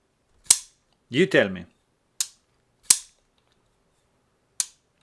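A handful of sharp metallic clicks and clanks, spaced apart as the blade of a Shirogorov Custom Division F95 folding pocketknife snaps open and shut, with a brief spoken phrase between them.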